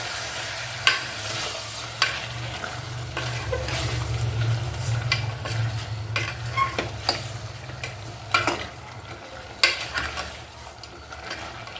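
Mutton curry with turmeric and salt is stirred in a pot over a steady low sizzle, with repeated close scrapes and knocks of the spoon. There is no talking.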